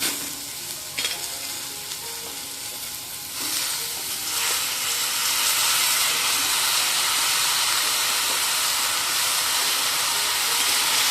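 Cut fenugreek leaves and potato dropped into a hot pan burst into a loud, rising hiss that swells after a few seconds into a steady, close, intense sizzle and holds to the end.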